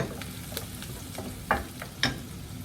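Butter melting over onions in a hot pan gives a close, steady sizzle with occasional sharp crackles and light spoon scrapes against the pan, no voices heard.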